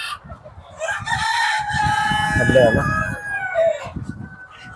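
A rooster crows loudly and close by, one long drawn-out call with other fowl clucking around it.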